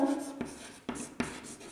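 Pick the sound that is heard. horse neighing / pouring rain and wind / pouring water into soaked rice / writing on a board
writing on a board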